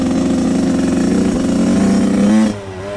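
A Suzuki RM 85 two-stroke dirt bike engine buzzes loudly and steadily at high revs while being ridden, then the throttle drops off abruptly near the end into a lower drone.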